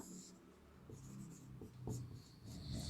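Chalk or marker strokes on a classroom board as a letter is written, soft scratchy rubs arriving in short bursts, quiet and close, with faint speech underneath.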